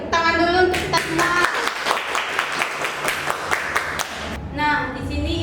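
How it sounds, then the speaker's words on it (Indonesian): A classroom of children claps together for several seconds during a micro-teaching lesson, a dense burst of hand claps between a teacher's spoken lines at either end. "Tepuk tangan dulu untuk kita semua"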